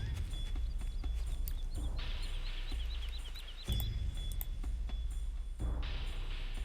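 A pony's hooves clip-clop in a steady walking rhythm in the Star Stable Online video game, with light bird chirps and a faint background hum, moderately quiet and continuous.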